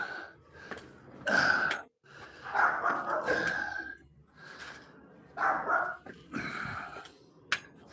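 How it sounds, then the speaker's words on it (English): A little dog barking somewhere near a home in Tijuana, several short sharp yaps in irregular bursts separated by pauses, moderately close, with light breathing and small noises between them. "There's a little dog barking."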